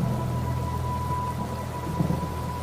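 Heavy rain and thunder in a horror animation, set outside an old, seemingly abandoned house: a loud continuous downpour with a low rumbling roll underneath, steady throughout.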